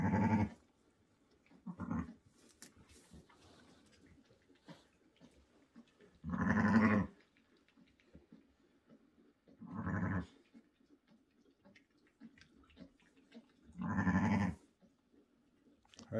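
A ewe and her newborn lamb, just delivered on a farm, bleat in four separate rough bursts spaced several seconds apart, close but fairly quiet, with low rustling between calls.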